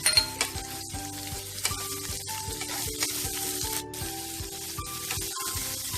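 Boiled potatoes tossed in hot oil and spices for an onion-free potato bhaji, a close, steady sizzle broken by rhythmic scraping strokes of a spatula against the pan, with no talking.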